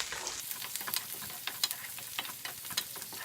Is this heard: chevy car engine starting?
no